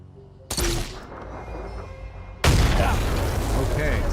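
A loud explosive boom in a video game, likely a thrown grenade, with an abrupt onset, followed two seconds later by a second, heavier blast whose broad rumble sustains to the end.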